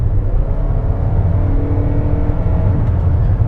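A 2021 Toyota Venza LE Hybrid with an eCVT accelerating at full throttle: a steady, loud, close cabin rumble with a low engine drone that holds evenly throughout, no voices.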